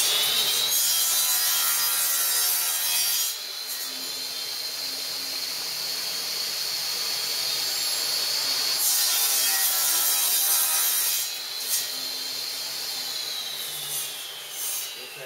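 Continuous saw cutting through wood segments for a segmented turning project, a loud close rasping buzz that runs in long strokes with short pauses between cuts and no talking.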